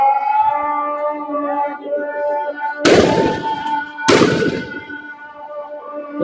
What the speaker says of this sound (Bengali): পুলিশ সাউন্ড গ্রেনেড, কাঁদানো গ্যাস এবং নিক্ষেপ করছে।